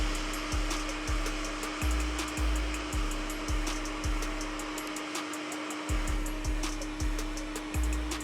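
A hot air rework station blows a steady stream at 50% airflow and 380 °C while desoldering a chip from a Samsung phone board, a continuous airy hiss under a low rhythmic thumping hum.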